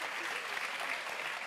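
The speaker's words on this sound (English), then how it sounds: "give them a big hit, round of applause" A dense, steady wash of audience applause fills an evening science event at the California Academy, greeting a panel of women scientists, with faint voices blended into the crowd noise.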